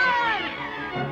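A cartoon cat in an old Smurfs animated episode meows loudly once, a drawn-out rising and falling cry that fades into music and background noise.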